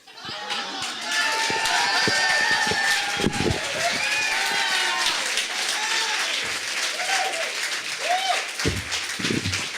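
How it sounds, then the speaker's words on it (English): Raucous audience applause at a Friday night beer slam poetry event, loud and sustained dense clapping with whoops and cheers rising through the crowd. "Continue applauding raucously at all times, unless someone is speaking"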